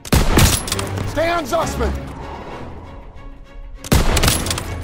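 Loud bursts of rifle and machine-gun fire in the World War II shooter Call of Duty: WWII, a heavy volley at the start and another near the end, with a soldier shouting between them.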